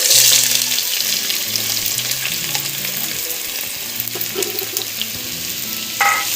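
Chopped onions sautéing in oil and ghee for a prawn rice dish, a continuous close crackling sizzle with occasional spatula scrapes and a brief clatter near the end, no talk.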